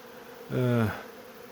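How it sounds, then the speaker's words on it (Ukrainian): Robber honeybees buzzing around removed hive frames, one close bee's drone swelling loudly for a moment before fading back into a faint background hum of the apiary. "бджілки, чужі злодійки"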